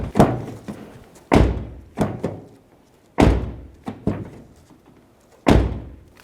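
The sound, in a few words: closing rear door of Acura MDX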